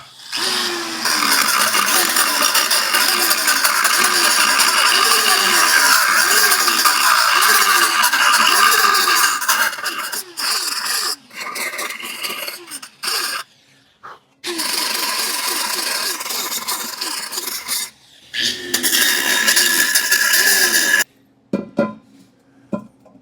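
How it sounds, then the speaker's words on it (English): A small 3M belt sander strips paint from a rusty antique vise grip, a close, loud whirring grind with a pulsing rhythm that runs for long stretches, cuts out briefly several times, then resumes before stopping. "I'm going to get that little 3M belt sander"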